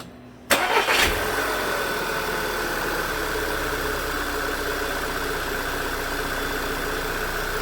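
VW 2.0 TSFI engine with a new timing chain cranks briefly and catches, then settles into a steady, even idle that runs on close and loud with no talk.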